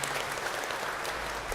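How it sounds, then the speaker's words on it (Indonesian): A church gathering applauds Sister Clara, a short burst of dense, even clapping from many hands at close range. "Kita tepuk tangan, aplaus untuk Suster Clara."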